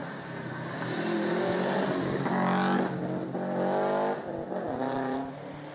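Truck or jeep tearing up the Eliyakanda hillclimb in Sri Lanka during an open-class run, engine loud and close as it revs hard through gear changes, roaring continuously with rising and falling pitch.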